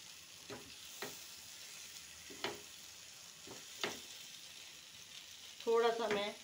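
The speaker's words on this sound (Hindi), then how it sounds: "इसको मैं हिलाती रहूँगी क्योंकि इसमें बेसन है" Okra with besan fries quietly in a pan over low to medium flame, a soft steady sizzle with faint scrapes of stirring at intervals and a louder burst of frying at the end.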